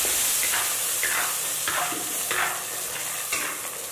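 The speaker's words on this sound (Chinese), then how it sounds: "倒入一小勺的油，放入花生米炒制。" Peanuts stir-fry in a small spoonful of oil in a wok, a steady bright sizzle with a spatula scraping and tossing them in regular strokes about every second, close and alone.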